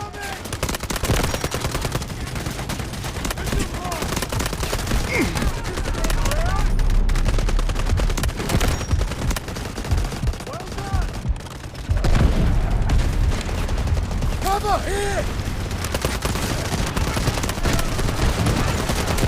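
Rapid gunfire and heavy booms fill a Delta Force video game battle under an incoming artillery barrage, with dense overlapping shots and blasts that rise and fall.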